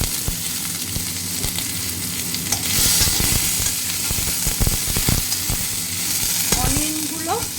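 Chopped onions sizzle and fry in a very hot wok of oil while being stirred, with a constant hiss broken by scraping and clattering strokes of the utensil.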